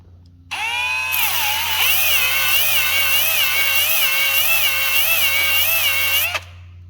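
Steady high whine of a drill spinning a cylinder hone inside a 2009 Kawasaki KX85 Big Wheel two-stroke engine cylinder, rising and wobbling in pitch with each pass, close and loud for about six seconds before stopping abruptly.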